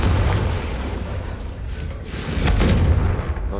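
A Confringo blasting spell bursts in Hogwarts Legacy, a heavy low boom that swells and rumbles on through most of the few seconds, loud and close, with a second surge of blast noise partway through.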